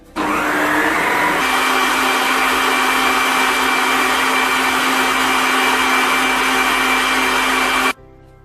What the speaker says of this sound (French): je vais fouetter ma préparation 1 à 2 minutes pour que mon mélange soit bien